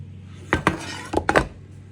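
Baked chocolate praline cake layers come out of metal pans, marked by a handful of quick metallic clanks and knocks in two short bursts, close and distinct against a quiet room.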